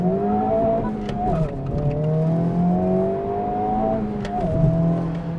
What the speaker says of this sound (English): I want to launch this car from zero